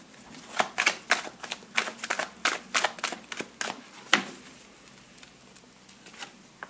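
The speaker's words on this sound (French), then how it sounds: "Je vais tirer 3 cartes supplémentaires." Tarot cards shuffled by hand: a quick run of crisp riffling snaps and flutters, close and fairly loud, easing into a few scattered softer flicks toward the end.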